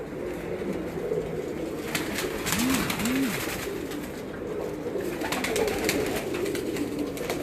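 A female pigeon coos twice in quick succession amid steady outdoor background noise on a rooftop, with some rustling and flutters around it.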